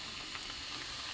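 Moong dal puli pitha fry in oil over low gas, a soft, steady sizzle and crackle close by with no voices.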